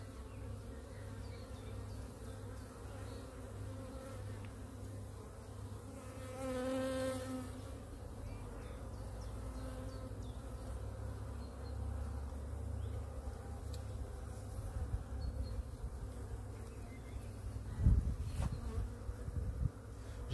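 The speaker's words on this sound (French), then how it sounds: "je vais garder un maximum d'abeilles justement sur ces cadres là" Honeybees buzz steadily around an opened beehive, a dense, continuous droning hum close by that swells slightly as individual bees pass near, with a few faint knocks in the background.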